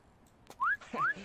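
Two rising wolf whistles from a Sims 2 character flirting, each short and clear, the second following closely after the first over a quiet background.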